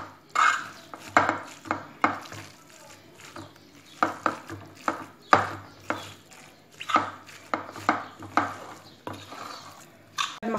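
A spoon scrapes and knocks against a bowl while bread filling for oven-baked stuffed bread is mixed, giving irregular close clacks and scrapes with short pauses between them.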